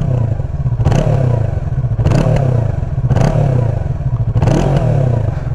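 A 2019 Yamaha R3 motorcycle with its stock exhaust revs in four loud, close bursts over a steady idle rumble, with no talking.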